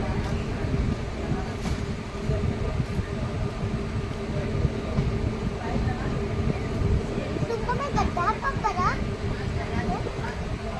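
The Mayurakshi Express pulls slowly out of Dumka station with a steady rumble and a faint clatter of rail cars. A voice talks throughout, and near the end a few brief high squeals or whistles rise above the rumble.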